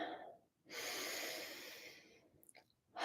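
A long, steady inhale drawn in through the nose, airy and close, lasting about a second and a half before tailing off into a few small breathy sniffs.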